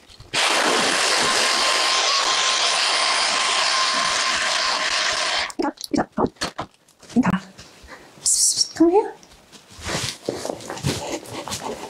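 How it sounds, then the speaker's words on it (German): A household vacuum cleaner roars loudly and steadily during living-room cleaning, then cuts off; afterward a dog whimpers and someone talks over scattered knocks and rustling. "Ja, Staubsauger sind nicht so Inka."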